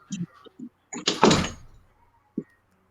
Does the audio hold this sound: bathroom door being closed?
yes